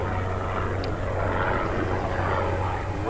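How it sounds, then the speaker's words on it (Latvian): A patrol helicopter circles over the Lielupe river at Mežotne, its engine and rotor drone forming a steady, broad rumble that stays fairly loud and constant. "Šitais helikopters, kas šodien patrolē visu dienu riņķī."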